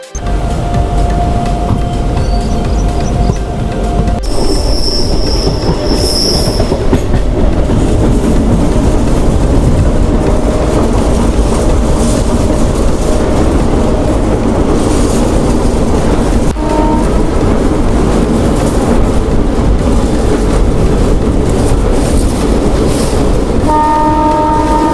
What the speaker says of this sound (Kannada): ನಮ್ಮ ಟ್ರೈನ್ ಇವಾಗ ಶಿವಮೊಗ್ಗ ಟೌನ್ನ ಡಿಪಾರ್ಚ್ ಮಾಡಿದೆ